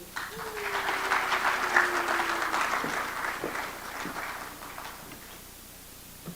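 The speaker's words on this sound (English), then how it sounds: "how about another round of applause" Applause rolls through the audience at the Africa Energy Technology Conference 2025, a sustained patter of clapping that fades gradually over several seconds.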